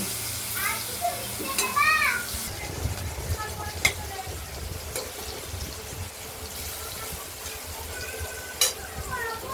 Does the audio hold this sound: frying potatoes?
yes